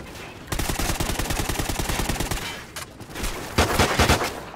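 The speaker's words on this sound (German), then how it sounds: "Ja, mit der Pistole." Rapid pistol fire in a video game, a close, loud string of evenly spaced sharp shots, then a brief pause and a few heavier blasts.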